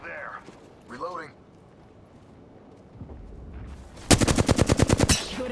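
Gunfire in Apex Legends: a rapid, loud burst of automatic shots in a fast, even rhythm, coming after a quieter stretch with a few voice lines and ambient game sound.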